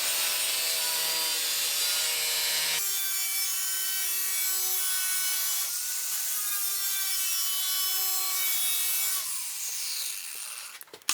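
An angle grinder cuts sheet metal for patch panels on a 65-year-old International Harvester fender under rust repair. It gives a loud, steady, close grinding whine whose pitch shifts slightly across cuts, then tapers off near the end.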